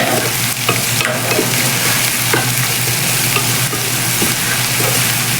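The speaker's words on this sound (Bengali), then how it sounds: "এখানে আমি পেঁয়াজ আর মরিচটা একটু ভালো করে ব্রাউন কালার করে ভেজে নিচ্ছি" Onions and chilies fry in a pan until browned, a dense steady sizzle running throughout with occasional faint stirring taps, close and fairly loud, no voices.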